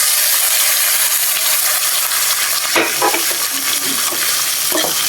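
Garlic, onion and tomato fry in hot oil with a loud, constant sizzling hiss; a few stirring scrapes and knocks break through near the middle, close and without speech.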